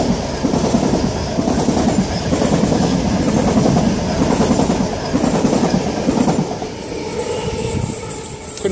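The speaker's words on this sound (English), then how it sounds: "Late running Tangara, about to pass through platform number 1." A late-running Tangara electric suburban train passes through platform 1 at Mortdale station, Sydney, with a loud continuous rumble and clattering wheels that fade slightly near the end, with no voices.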